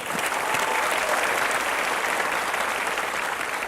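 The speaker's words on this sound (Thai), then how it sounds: "ขอเสียงปรบมือหน่อยครับ" A live studio audience at a televised singing competition applauds, with dense, steady clapping from a large crowd that fills the whole stretch at an even level.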